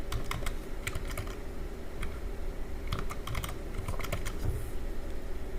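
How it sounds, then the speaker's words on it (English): A password being typed on a computer keyboard during a MySQL install on Windows, heard as irregular bursts of close, crisp key clicks against a steady low hum, with no one talking. "we type a password here"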